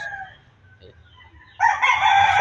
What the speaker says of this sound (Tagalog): At maraming manok dito sa amin.